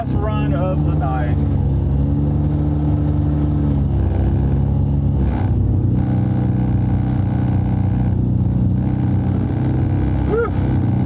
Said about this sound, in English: that was a good burnout